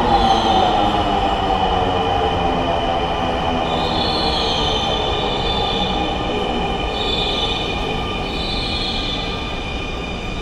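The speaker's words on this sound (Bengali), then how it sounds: "চলে আসছে আমাদের ট্রেন" A Dhaka Metro Rail train pulls into Mirpur 10 station, its wheels letting out a loud, sustained metallic squeal over a steady rumble that holds for the whole stretch and eases only slightly toward the end.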